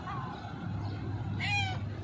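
A hungry homeless cat meows loudly for food, one faint cry followed by a clear, drawn-out meow near the end, over a low background hum.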